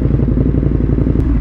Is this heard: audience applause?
no